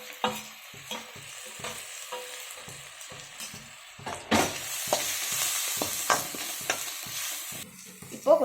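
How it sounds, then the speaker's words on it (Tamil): Chili powder and turmeric being sautéed and stirred in a pan for a drumstick sothi, with a steady sizzle broken by repeated scraping strokes of a spoon, close and fairly loud, no talking. "குழம்பு மிளகாத்தூள், மஞ்சத்தூள் மூணுமே போட்டு நல்லா வதக்கிக்கிறோம்."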